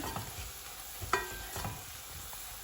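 Flour roasting in butter in a pan is stirred with soft scraping strokes over a low, steady sizzle, with an occasional sharper knock of the utensil.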